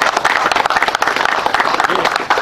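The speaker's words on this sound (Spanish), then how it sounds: "Vamos a dar un fuerte aplauso a esta iniciativa." A strong round of applause at a public event marking the start of an aqueduct intake and pumping station project, busy close clapping from a crowd with light voices underneath, steady across the whole stretch.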